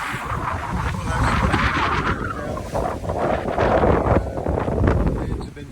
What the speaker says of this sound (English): Winds have been fairly constant, around 15 to 20, and sometimes gusting over that